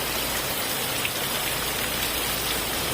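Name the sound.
heavy rain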